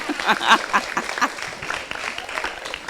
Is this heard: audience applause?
yes